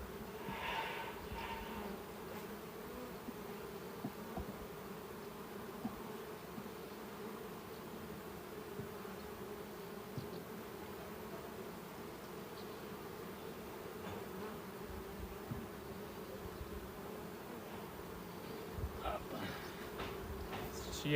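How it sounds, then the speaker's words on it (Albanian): Honeybees drone continuously around a crowded hive during a colony split, a low, steady buzzing close by, with a few faint voices and scattered small knocks underneath. "Shihet këtu te kosherja, ka plot bletë"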